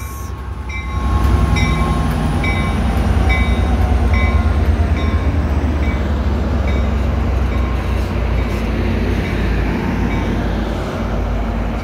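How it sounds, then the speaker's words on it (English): Amtrak California northbound train 713, hauled by an F59PHI locomotive with Comet cars, rumbles loudly and steadily through Fresno station, with a deep continuous roll and faint high squeals from the wheels. "Again, in the station, northbound train 713."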